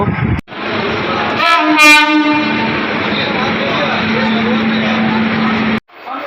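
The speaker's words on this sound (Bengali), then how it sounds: "শিয়ালদা স্টেশনে চলে এসেছি, আমাদের ট্রেনও এসে গেছে।" At Sealdah railway station a train rolls in with a continuous heavy rumble, punctuated by a loud, brief horn blast near the start before the noise cuts off abruptly.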